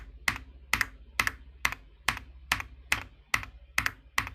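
A mechanical keyboard typed at a steady pace, about ten sharp clacks, each bottom-out followed by a short low resonance from the table beneath, close-up with no talking.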